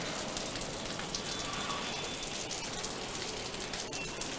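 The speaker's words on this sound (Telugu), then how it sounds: "ఊహించని వర్షంతో ఒక్కసారిగా వాతావరణం చల్లబడ్డ పరిస్థితి" Sudden heavy rain in Hyderabad pours down steadily, a dense, even hiss of drops striking surfaces, moderately close and continuous with no voices.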